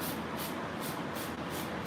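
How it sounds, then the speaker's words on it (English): A spray nozzle bottle sprays water onto a sanded wooden surface, a continuous close hiss that pulses in rapid rhythmic bursts with no talk. "I'm just spraying."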